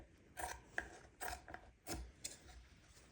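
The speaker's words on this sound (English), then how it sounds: "Got my faithful gingerbread scissors, y'all. I'm just going to trim this down just a little bit." Gingerbread scissors trimming paper in a few quiet separate snips, each a short crisp crunch with small pauses between, close and faint with no talking.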